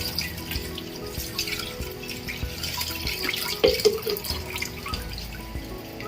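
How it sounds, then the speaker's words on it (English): Cold water poured from a tap into a pot of blanched pork fat with ginger, a continuous splashing trickle with some drips, close and moderately soft. "So I'll pour some cold water to stop the cooking"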